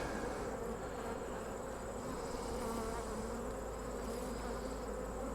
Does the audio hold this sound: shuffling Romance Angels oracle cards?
no